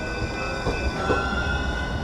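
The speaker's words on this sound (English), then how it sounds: "I see a tram in front of me." A tram passes close by at a busy US–Mexico border crossing near San Diego, its steady rolling rumble and rail noise continuous and fairly loud throughout, with no voices.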